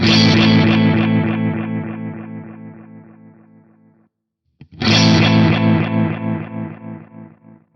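Two loud distorted guitar strums ring out through a delay with its compander off, each trailed by dense, overlapping echo repeats that gradually fade, with a brief silence between them.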